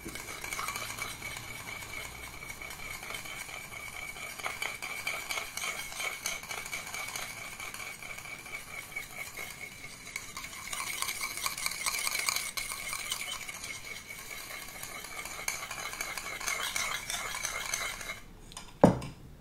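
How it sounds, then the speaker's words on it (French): A spoon stirs and scrapes through a shrimp, salmon and grapefruit salad in a bowl, with steady close clinks and soft wet tossing, ending in a sharp knock against the bowl. "On mélange le tout."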